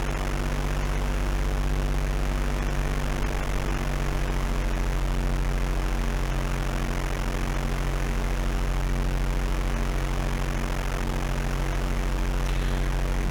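Steady, droning aircraft engine from the Flight Simulator II game on an Atari ST, an unbroken loud hum with constant tone and no voices throughout.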